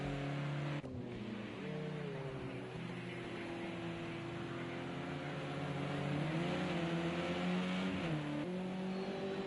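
Race cars jostling for position on the Catalunya circuit in a sim racing event, their engines howling together in a dense layered drone, the pitch rising and falling with shifts, steady and continuous throughout.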